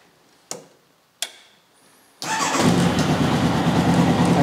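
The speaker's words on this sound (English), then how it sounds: "So now the engine is in a good condition, so we should be able to start it up fairly easily, although the engine is cold" Cold engine of a restored Formula Konig race car: two sharp clicks, then the motor catches at about two seconds and runs on at a loud, steady, rumbling idle close by with no talk.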